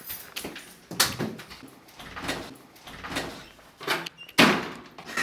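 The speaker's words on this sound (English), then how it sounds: "You broke my door." A door is forced open with several thumps and knocks, the hardest impacts near the start and end, plus scraping and rattling between them, all close by.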